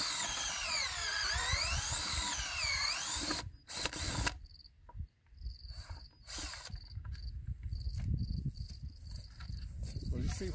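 A power drill whines steadily for a few seconds, stops abruptly, then restarts in short bursts as it bores into material, loud and close.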